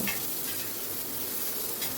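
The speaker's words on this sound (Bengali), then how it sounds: "এবার একটু নাড়াচাড়া করে নিচ্ছি সবগুলো।" Tomatoes, onions and chillies frying in oil as they are stirred around a pan, a soft continuous sizzle with light scraping, heard close and fairly quiet with no talking.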